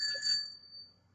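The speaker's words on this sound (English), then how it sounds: "That was a bell." A bicycle bell rings once with a bright, sustained metallic ring that fades over about half a second, heard alone at moderate volume.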